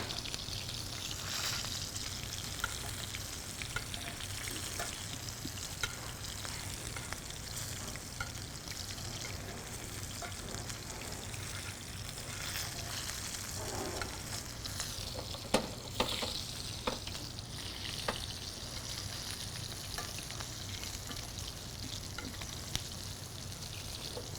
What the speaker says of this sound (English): So that was a good sear, about 3 minutes on each side, guys.